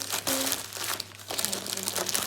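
A Minecraft trading card pack wrapper is torn open with loud, close crinkling and crackling of foil in several bursts, with a brief faint voice sound partway through.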